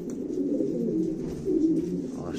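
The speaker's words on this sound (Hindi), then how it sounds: "और साथ में इसके शरबती कबूतर है।" Close, steady cooing from a group of fighter pigeons in Quetta, a low rolling murmur from several birds at once with no other sound.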